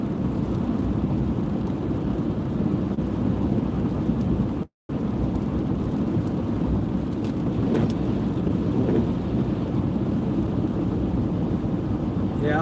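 A thunderstorm roars with a steady wash of heavy rain and deep rolling thunder, loud and continuous apart from one brief dropout.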